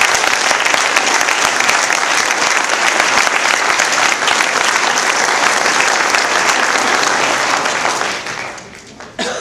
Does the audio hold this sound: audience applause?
yes